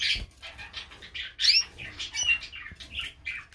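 A breeding pair of canaries, an Italian cock and a hen, in a breeding cage, giving short chirps and squeaky notes in scattered bursts along with light fluttering and cage rustle, close and moderately loud.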